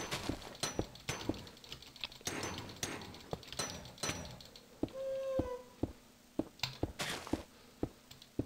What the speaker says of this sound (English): So sorry for if you can hear my clicking.